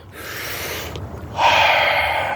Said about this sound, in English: It's called breathing.